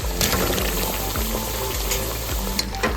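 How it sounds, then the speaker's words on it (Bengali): Fried potatoes tipped into a hot pan of oil with cooked-down tomato sizzle steadily and loudly, with stirring scrapes and clinks throughout, for a Bengali mutton kosha dish. "ভেজে রাখা আলুগুলো দিয়ে নিচ্ছি।"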